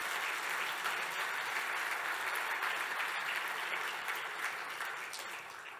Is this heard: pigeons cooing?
no